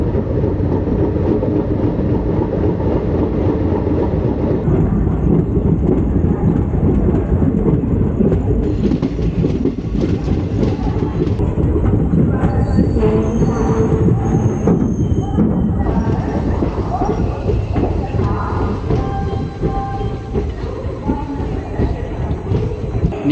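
A train departing a station rumbles loudly and continuously nearby, its heavy rolling noise steady throughout, with faint squeals and clanks from the wheels.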